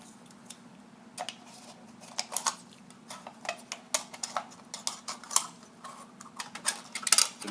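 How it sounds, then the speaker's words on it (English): Scissors snip repeatedly at close range through cloth, sharp irregular clicks and cuts over a faint low hum, with no one talking. "Scissors."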